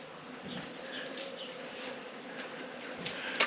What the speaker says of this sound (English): Are you hearing what I'm hearing? Somebody's got bees.